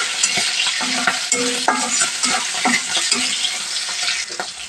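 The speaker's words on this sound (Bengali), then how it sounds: "এগুলো একটু ভাজে নেব চিংড়ি মাছটা" Shrimp fry in oil in a wok, a bright steady sizzle broken by repeated clanking and scraping stirs, loud and close.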